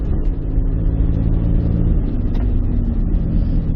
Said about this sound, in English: If you hear, that's just rust on the brake discs.